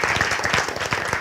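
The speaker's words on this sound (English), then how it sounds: "Yes, we can clap for him." Dense audience clapping at a story slam, steady and close, filling the whole short moment with no talk over it.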